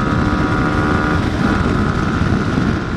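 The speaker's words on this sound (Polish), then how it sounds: "Nie wiem, czy to słyszycie, ale on fajnie chodzi. Ma fajnie, fajnie mruczy, naprawdę." Romet ADV 125 FI PRO quad's 125 cc fuel-injected engine running, a loud, steady, close idle hum with no talk.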